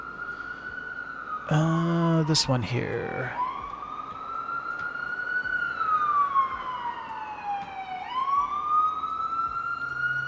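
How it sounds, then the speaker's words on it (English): A loud siren wails, sweeping up and down in long rising and falling tones, after a brief spoken remark and a burst of clattering noise. "That is a very loud siren this time around."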